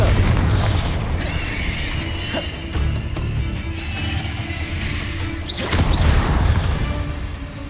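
Confringo fire-blast spell explosions in Hogwarts Legacy, a loud booming crash near the start and another burst around the middle, over a continuous rumbling game soundscape with sweeping magical whooshes.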